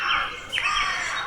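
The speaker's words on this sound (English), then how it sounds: "Lovely song thrush up there," A song thrush sings loud from somewhere above, with short bright phrases and a sharp rising note near the middle, heard alone without talk.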